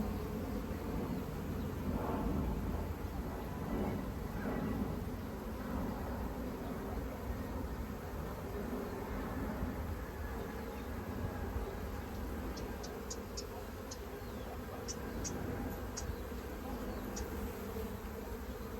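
Honeybees swarm around a hive and trap, a steady dense buzzing that fills the whole stretch with a few brief higher whines near the end, continuous and close with no voices.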